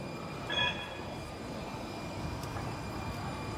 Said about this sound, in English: there goes the two-car Siemens train on the engine line.